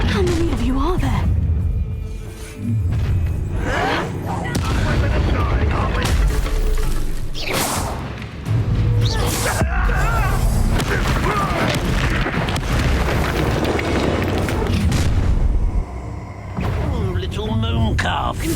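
Repeated Confringo blasting-spell explosions from Hogwarts Legacy boom out loud and close, several heavy bursts spread across a busy stretch of combat sound, with a voice talking over them at times.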